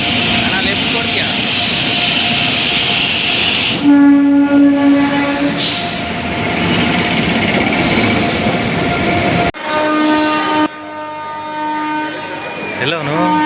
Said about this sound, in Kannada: ಟ್ರೈನ್ ಮೂವ್ ಆಯ್ತದೆ ಕಣ. ಟ್ರೈನ್ ಹೋಯ್ತದ, ಬಾ ಬೇಗ.